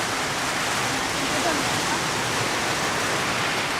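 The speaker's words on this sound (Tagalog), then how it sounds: "Biglang lumakas ang ulan mga kababayan." Heavy rain suddenly pours down in a dense, roaring hiss that fills everything and stays constant and loud, with no gaps.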